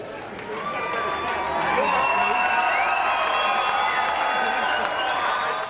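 A bodybuilding contest crowd cheers and applauds a competitor, with sustained whoops, shouts and clapping that swell and hold at a fairly loud level.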